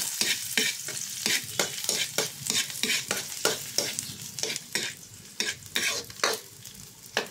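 Chopped garlic sizzling in a hot pan while being stirred for Filipino squid adobo, with regular scraping strokes of a utensil rising over a steady fry, close and fairly loud, with no talking.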